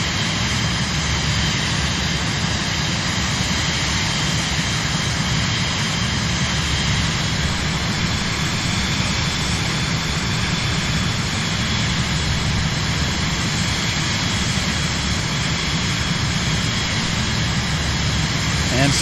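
Steady, loud jet engine drone from a jet in Microsoft Flight Simulator, cruising over hills near Cleveland, Ohio, a continuous broadband roar with no variation or break throughout.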